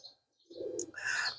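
Pigeons calling close by in a short burst, a soft low coo followed by brighter chirping notes, with no one talking.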